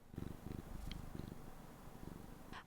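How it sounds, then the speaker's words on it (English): A cat purrs in a steady, rumbling rhythm up close, the low pulses continuing throughout with a brief rustle near the end. "She's purring. I don't know if you can hear it."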